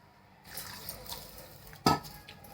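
Sabudana and bhagar being rinsed in water in a kitchen bowl, soft swishing and light sloshing with one sharper splash near the end, quiet and close.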